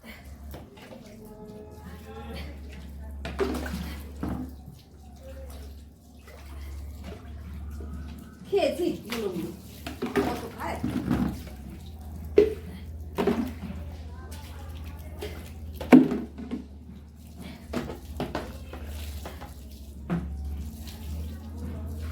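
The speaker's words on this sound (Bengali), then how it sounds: "জায়গাটা পরিষ্কার করে নিলাম বন্ধুরা জল করে ধুয়ে" Water is splashed and poured to wash a floor at home, with intermittent sloshing, scrubbing and splashes over a low steady hum while a person talks throughout.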